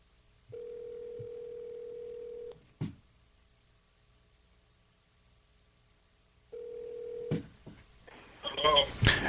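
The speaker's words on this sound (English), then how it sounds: "And there goes the phone. It's ringing." On an outgoing phone call, a steady tone sounds twice with a long silent gap between, followed by a short click. A voice then starts talking as the call connects.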